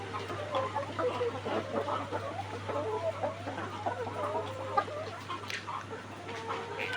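Many laying hens, about eleven hundred, cluck and murmur together in a continuous, busy chorus, with a steady low electrical hum underneath.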